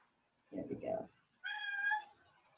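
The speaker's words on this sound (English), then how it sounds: "your cat's a real talker" A pet cat meows twice, a short low chirping call followed by a longer, clearer tonal meow, close and fairly quiet in a calm room.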